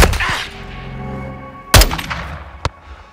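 Gunfire in Call of Duty Modern Warfare II: a sharp, loud, close shot cracks out and trails into a rumbling echo, followed by a second shorter report, over a low background of battle noise.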